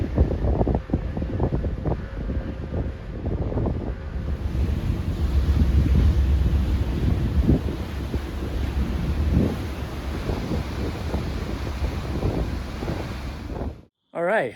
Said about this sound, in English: we are on the Long Island Crosstown Ferry heading from New London, Connecticut to Orient Point